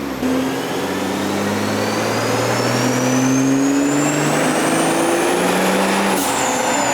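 Loud, continuous engine roar of a turbocharged BMW M340i on a dyno, running E40 fuel, climbing steadily in pitch as it revs hard through its gears, with a rising turbo whine on top.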